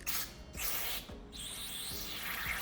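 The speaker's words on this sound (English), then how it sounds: "I'm going to spray right in here" Cleaner sprays in short hissing bursts into the PCV valve of a 2024-2025 Nissan Kicks AWD SV with a 2.0L MR20DD engine, several close spurts with faint handling noises between them.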